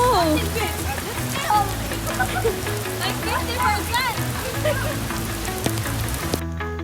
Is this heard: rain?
yes